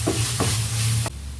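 Garlic paste sizzles and is stirred in a hot pan while cooking a Chennai-style vada curry, a steady loud frying hiss with a few stirring scrapes, cutting off abruptly near the end.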